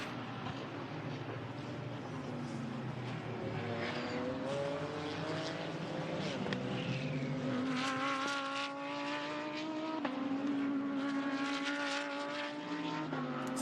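A Blancpain GT Series Asia race car in qualifying at the Ningbo circuit in China rises from a distance to a loud engine whine. It upshifts several times, the pitch climbing in steps as it passes close by.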